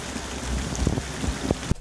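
Heavy rain pours steadily during a rainstorm, a dense hiss broken by occasional sharper drops and splats striking nearby surfaces, with no talking.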